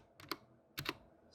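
Someone types on a computer keyboard with a few quick keystrokes in two short bursts. The clicks are close and crisp against a quiet background.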